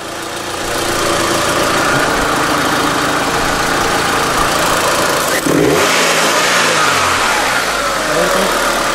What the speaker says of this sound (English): The car is idling good.